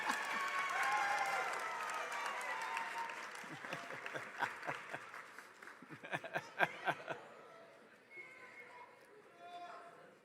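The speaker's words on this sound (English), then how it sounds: "graduates, turn around and give a cheer and applause to the family and friends who supported you" Graduates at a university commencement cheer and applaud their families, a dense roar of voices and whoops giving way to scattered, fading hand claps.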